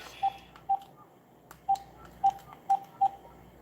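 Cell phone keypad dialing tones: six short, crisp beeps at uneven intervals, close and clear against a quiet background with faint clicks.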